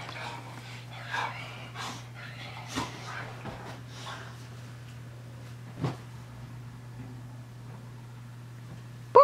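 A playful puppy indoors pants and snorts quietly over a constant low electrical hum, with a few louder snorts standing out.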